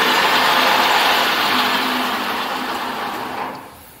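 A turning lathe runs in a workshop after its lever is pulled up to spin the chuck clockwise. The steady mechanical hum starts loud and slowly fades toward the end.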